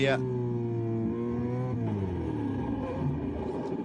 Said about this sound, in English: you could just hear, he just picked up the throttle